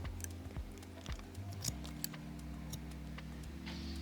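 Scissors snip around the perimeter of a man's short back-and-sides haircut, a string of small close crisp clicks and cuts heard alone over a faint low hum.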